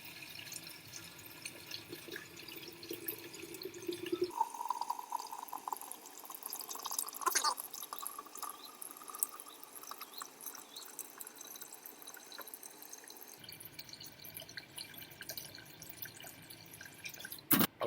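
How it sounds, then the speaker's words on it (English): A kitchen sink tap runs at full blast, filling a large beaker toward its 3,000 ml mark. The water makes a steady, close rushing and splashing that lasts throughout, changing in tone partway through as the vessel fills. "Alright, sink's on full blast there"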